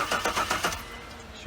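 A fuel-injected car engine cranks over and over, trying to start: about five fast, rhythmic bursts in the first half, then it fades to a low, steady hum.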